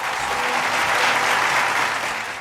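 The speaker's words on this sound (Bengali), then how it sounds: "আল আমিনের জন্য একটি জোরে করতালি।" Steady, dense audience applause for the winner of a Dhaka marathon run, a loud continuous wash of many hands clapping that tapers slightly at the end, with no talk over it.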